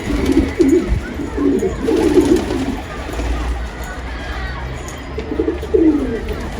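Several pigeons of a demanding breed coo repeatedly in a loft, low throaty bursts recurring every second or so at close range, with a steady background hum throughout.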